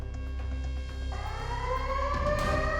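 An air raid siren wails over the Russian Black Sea Fleet Command Center in Sevastopol, a loud sustained tone that rises steadily in pitch against a low rumbling hum.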